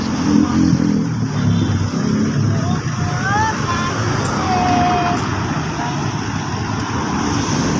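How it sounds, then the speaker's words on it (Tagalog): Road traffic in a hot provincial area, with cars and motorcycles passing in a steady, loud rumble and engine drone that carries through the whole stretch. "Traffic."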